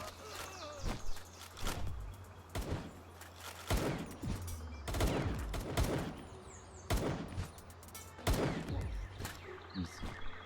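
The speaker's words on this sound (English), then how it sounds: "I'm gonna shoot you in the face." Gunfire in the video game Palworld: repeated sharp bursts of shots spaced across the stretch, mixed with footsteps and game ambience, fairly loud and alone without talk.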